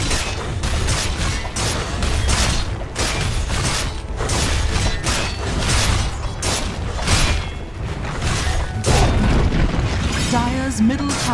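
Dota 2 match in which a middle tower is attacked and destroyed, a steady barrage of loud booms and impacts running the whole time, with an announcer's voice speaking over the combat.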